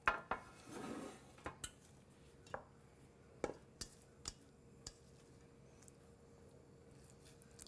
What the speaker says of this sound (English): Give my soup a good stir.